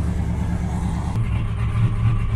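A Buick car engine idles in gear with a steady, even, low rumble, close and moderately loud, with no one talking over it.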